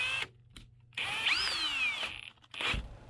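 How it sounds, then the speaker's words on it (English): A power drill with a 3/4 inch wood speed bit bores holes into a roof, whining up in two close bursts with short pauses and soft handling noises between them. "I'll use a 3/4 inch wood bit this time so I can get a saw blade into the holes."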